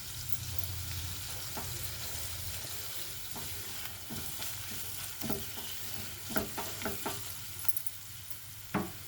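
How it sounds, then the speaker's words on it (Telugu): Ginger garlic paste frying in a pan while being stirred, a steady low sizzle with scattered scrapes and taps of a spoon growing busier toward the end, close and alone. "పచ్చివాసన పోయే వరకు వేగించుకోవాలి."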